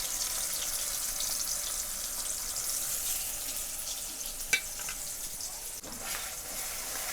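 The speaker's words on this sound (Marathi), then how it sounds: "तर ह्या तेलामध्ये छान असं वाटण आणि टमाटो आपल्याला तळून घ्यायचं आहे" Spice paste and tomato fry in oil in a pan, giving a steady, soft, high sizzle throughout, with a brief clink and a stirring scrape partway through.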